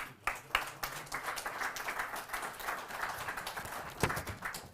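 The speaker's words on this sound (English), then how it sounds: "So you can give a round of applause." A crowd at a Steelers press conference in Ireland breaks into applause, a dense, even patter of many hands clapping at moderate distance, with a couple of sharper claps standing out and no speech over it.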